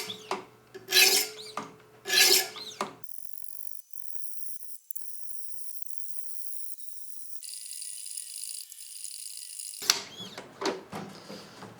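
A knife is drawn across grit sharpening stones, starting with two loud scraping strokes followed by a long, steady, high-pitched rasp and a final run of rough, gritty strokes, close and clear with no talking.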